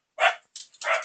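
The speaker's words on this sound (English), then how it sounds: "Sorry for the barking." A dog gives three quick barks in a row, loud and close, with short gaps of silence between them.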